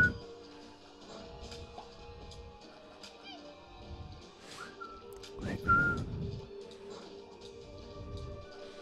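The Dingle boss in the video game Binding of Isaac: Rebirth whistles in short, brief rising notes amid game thuds and crashes, heard fairly faint against a busy background of effects.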